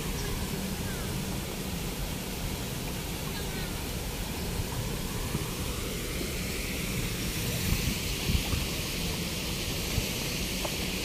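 Strong steady rush of flowing water from a stream in a Singapore garden, broadband and continuous at close range, with faint voices in the background.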